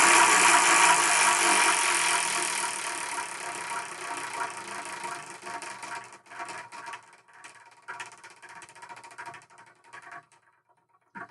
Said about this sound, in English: So what I'm going to do is I'm going to spin the Wheel of Manga.